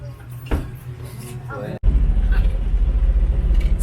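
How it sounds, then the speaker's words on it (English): A multicab vehicle on brand new tires, its low road rumble and engine hum rising loud and steady after a brief cut, with someone talking over it. "So the multicab feels lighter and nice to feel the ride now."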